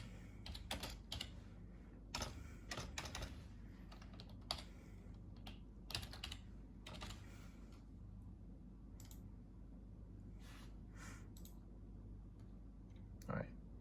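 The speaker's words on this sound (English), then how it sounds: "I'm gonna type in" Computer keyboard typing while entering data into the GCSS Army logistics system, with irregular bursts of key clicks spread across the clip over a steady background hum.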